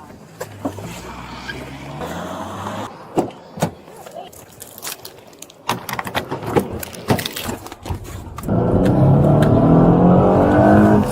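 A car flees police during a chase, its engine revving and surging amid sharp knocks and clatter, then settling into a loud, steady roar as it speeds away.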